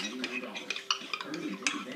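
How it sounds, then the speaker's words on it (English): A utensil stirs a liquid egg mixture in a bowl for egg drop soup, producing quick, close, rhythmic clinks and scrapes of metal against the dish, with faint voices in the background. "You gotta stir that a little bit so it becomes really liquid."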